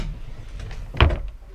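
A drawer under a large cupboard in a Hymer Liner 839 motorhome slides open with a soft rumble, ending in a single muffled knock, close by in a quiet room.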